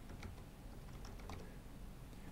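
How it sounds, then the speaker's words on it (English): Quiet, steady typing on a computer keyboard while entering lettering in DesignShop V9 software, with soft irregular key clicks over a faint background hiss and no voices. "so you can continue typing"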